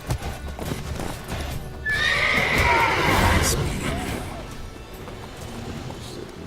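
Geralt's horse Roach from The Witcher 3 game neighs in a loud, drawn-out whinny over steady clip-clop hoofbeats, with game ambience and brief speech around it.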